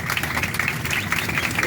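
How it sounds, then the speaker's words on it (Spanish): Passengers aboard a Flybondi Boeing 737-800 clap together in the cabin, a brief burst of close, steady applause over engine hum. "Le damos un fuerte aplauso, por favor."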